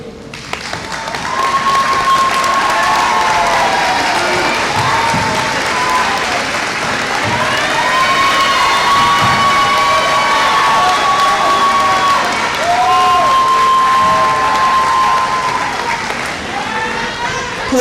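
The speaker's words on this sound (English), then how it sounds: "so that your students can thank you with applause" Sustained applause with cheering and shouts from a large audience standing at a college commencement ceremony, steady and loud throughout, with a few voices calling out over the clapping.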